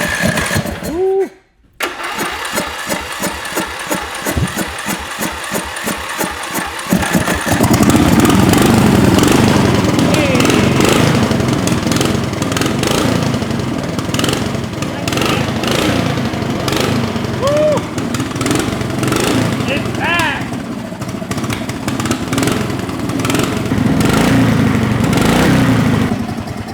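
A rat rod racing lawn mower engine revs up and runs hard without settling to idle, loud and close, with rough, uneven firing and people talking over it.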